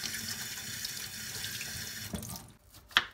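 Tap water runs steadily into a kitchen sink while a peeled vegetable is washed beneath it, a close, continuous splashing hiss that cuts off near the end with a brief final clatter.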